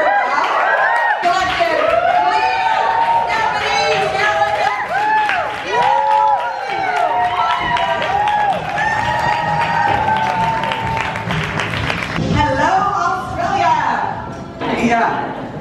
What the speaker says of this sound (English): Can we like have a cheer for brow?